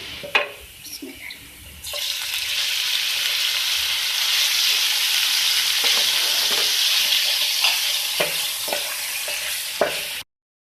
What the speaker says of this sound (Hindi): इसी पैन में मैंने ऑयल डाला है थोड़ा सा, और इसमें मैं डाल रही हूँ लहसुन कुटा हुआ, ठीक है। इसमें डालूंगी चिकन